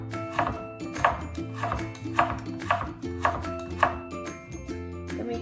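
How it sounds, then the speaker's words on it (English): Carrots julienned with a knife on a board while prepping vegetables for crispy egg noodles with chicken: a steady run of crisp chopping strikes at an even pace, heard over continuous background music. "We're going to julienne them."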